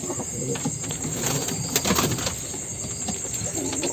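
Pigeons shuffle and stir inside a loft at night, with soft rustles, faint coos and scattered flutters over a constant high-pitched background hum.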